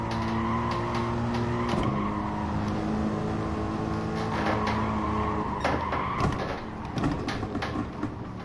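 A race car in GT Sport brakes too late and skids, its tyres squealing over a droning engine note that drops as the car slides, with no talk over it.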